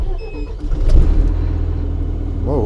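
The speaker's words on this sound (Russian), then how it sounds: "двигатель запускается легко, просто" A Ural NEXT 6x4 truck's diesel engine turns over and catches, then settles into a loud, steady, deep rumbling idle heard from close by inside the cab.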